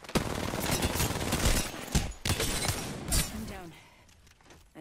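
Rapid gunfire rattles through a one-on-one video game tournament match in dense, loud bursts with brief pauses, fading toward the end, while a player talks over the shots.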